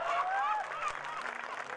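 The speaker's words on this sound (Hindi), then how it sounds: "और मत बजाओ ताली, चिढ़ते हैं।" Audience at a Hindi comedy poetry show (hasya kavi sammelan) clapping in a dense, steady burst of applause, with voices and crowd murmur mixed in over the whole span.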